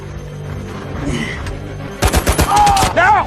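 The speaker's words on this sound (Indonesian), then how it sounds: "dan senapan mesin yang dipegang oleh Norman, mereka semua pun mulai membabi buta menembaki semua orang." Machine guns and rifles fire in a war film about a lone tank fighting German soldiers. The first part is quieter, then loud, rapid automatic bursts and shots erupt close by, with shouting mixed in.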